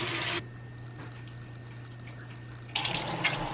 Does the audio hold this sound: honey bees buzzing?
no